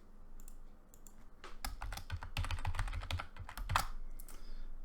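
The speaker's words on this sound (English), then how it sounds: "and put my password in." A password typed on a computer keyboard, with a close, brisk run of key clicks building through the middle and trailing off, plus a few lighter taps before and after, no speech.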